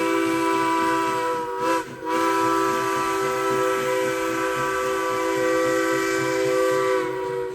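Narrow gauge steam train at Durango, Colorado, its whistle blowing a long, loud, sustained chord with a brief break, over the rumble and chuff of the locomotive nearby.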